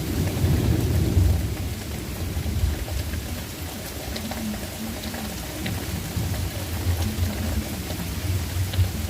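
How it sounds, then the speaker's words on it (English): Heavy rain pours steadily outdoors while low thunder rumbles loudly at first and then rolls on beneath the constant hiss of the downpour. "Love that thunder."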